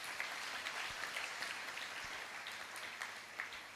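Faint, distant applause from a church audience, a soft continuous patter of many hands that holds level throughout.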